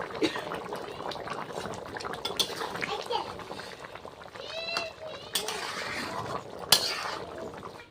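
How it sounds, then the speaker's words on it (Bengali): Chicken curry bubbles and simmers in a pot, a soft continuous burble with occasional clinks of a utensil, while a person talks over it. "তরকারিটা কিন্তু ফুটছে"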